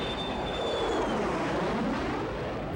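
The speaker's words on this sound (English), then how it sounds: "I'm making jet sounds in space again" Jet engine roar in space from the video game Galaga: Destination Earth, a steady loud whooshing drone with a faint high whine, continuous and unaccompanied by speech.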